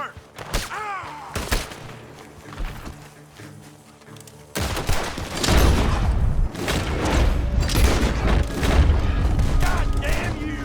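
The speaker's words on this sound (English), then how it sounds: "The gunshots are coming from that barn!" Gunfire rings out from a barn in the video game Red Dead Redemption 2, with sharp isolated shots and then a dense, loud barrage of rapid reports, booms and thuds.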